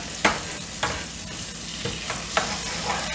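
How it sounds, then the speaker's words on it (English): Four tablespoons of sofrito cooking in a pot for sancocho, giving a continuous close sizzle broken by several sharp spoon knocks and stirring scrapes spaced irregularly across the stretch, with no talking. "I'm going to cook out my sofrito."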